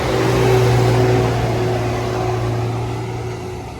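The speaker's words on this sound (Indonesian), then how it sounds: "Dengerin guys, nih suara raungan mesin" Heavily loaded truck with A plates straining up a steep, sharp uphill road through Alas Baluran, its engine giving a loud, close, sustained low roar that holds steady and eases slightly toward the end.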